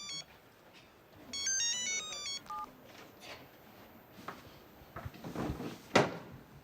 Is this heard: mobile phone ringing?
yes